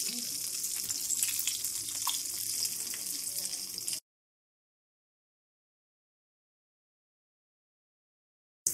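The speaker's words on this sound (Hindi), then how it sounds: "तरीके से अलट पलट कर गोल्डन कलर आने तक इनको फ्राई करना है।" Egg kababs frying in oil, a soft steady sizzle for a few seconds before abruptly cutting to silence.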